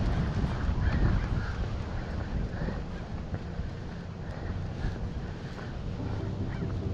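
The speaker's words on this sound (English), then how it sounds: "hear the crows circling" Crows caw a few times at a distance over a hiking trail under a power line, short harsh calls scattered through steady wind noise buffeting the microphone.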